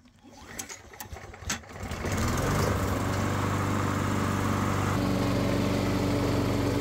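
A Toro Recycler 22-inch lawn mower, model 20065, fresh from a full tune-up with new oil and belt, starts after a few rattles and then runs loud and steady, its engine close by.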